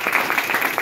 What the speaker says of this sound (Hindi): इनके लिए एक बार जोरदार ताली